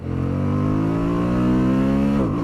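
A Suzuki V-Strom 1050 DE motorcycle accelerates hard in second gear, its loud engine note rising steadily in pitch for about two seconds before a sudden drop as the throttle eases; no talk.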